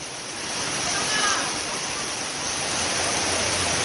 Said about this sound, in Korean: 비가 오는 날입니다.